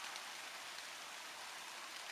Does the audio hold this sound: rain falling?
yes